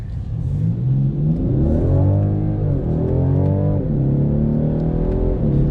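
A 2019 BMW 840d xDrive diesel coupe accelerates hard, its engine note climbing through several gears in steady rising sweeps with brief shift dips, loud and close throughout with no talk.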